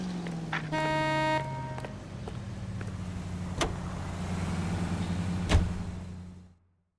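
Car driving in LA Noire: a steady low engine drone with a sliding pitch early on, a brief electric whine at the start and occasional sharp clicks, moderately close, with no talking.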